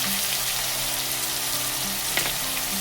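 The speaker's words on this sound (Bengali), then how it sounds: "এটাকে দিয়ে ভালো করে আমি এইভাবে কষতে থাকবো" Onion, green chilli and ginger-garlic paste sautéing in a pan for a Mughlai dish, a loud, continuous close-up sizzle with a faint stirring scrape partway through.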